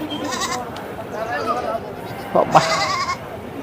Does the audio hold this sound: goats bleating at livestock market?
yes